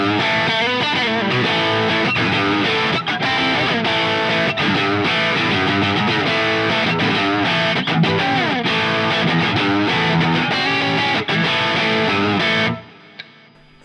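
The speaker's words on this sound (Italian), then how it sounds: "il classico suono crunch. In questo caso stiamo utilizzando una Plexi" Crunchy electric guitar tone from a Plexi amp model on a Quad Cortex, played on the middle pickup, dense chords and riffs ringing steadily and loud for about twelve seconds before stopping abruptly.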